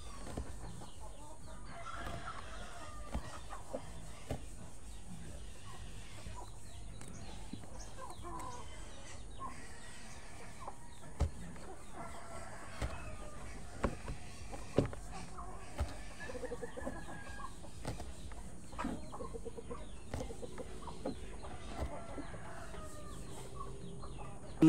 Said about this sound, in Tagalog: Mga manok mga kabay, kaso hindi sa atin yan eh